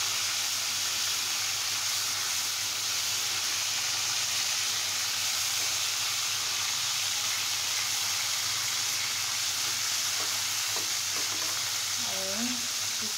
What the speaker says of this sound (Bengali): আমি এর ভিতরে আস্তে রসুনের 2টা কোয়া দিয়ে দিচ্ছি, যেন মাছের সাথে করে ফ্রাই হয়ে যায়